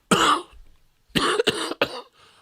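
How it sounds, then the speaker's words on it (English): One person gives a loud, harsh cough close up, then a rapid burst of two or three more barking coughs, with a faint throaty sound trailing after. "Cough right now."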